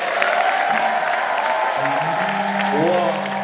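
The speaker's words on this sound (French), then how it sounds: "Applaudissez, s'il vous plaît." An audience applauds after a speech on women in politics at a parliamentary event, a loud, dense clatter of clapping with voices and cheering mixed in throughout.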